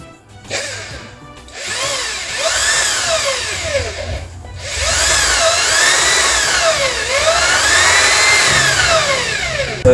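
Electric impact drill from a 3-in-1 set with angle grinder and jigsaw, whirring loudly in two sustained runs with pitch sweeping up and down as the trigger varies, separated by a short pause near the start and a brief dip midway.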